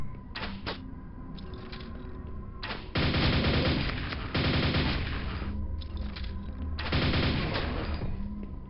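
Automatic weapon fire in a PC shooter game rattles out in rapid bursts, several short volleys and longer sustained strings, loud and close with brief pauses between.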